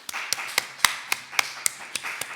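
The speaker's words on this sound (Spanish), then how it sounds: "solo queda una cosa, que es darle un aplauso a Rocío otra vez por el gran trabajo que ha" Sparse, evenly spaced claps follow the close of a conference talk, a steady slow rhythm of a few hands, close and moderately loud with quiet gaps between each clap.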